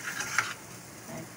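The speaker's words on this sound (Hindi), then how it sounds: "सारे आलू और अंडे को अच्छे से मिक्स कर दें" A utensil scraping and stirring potatoes and egg mixture in a pan, a brief clatter of short scrapes followed by a quieter stir, close and alone.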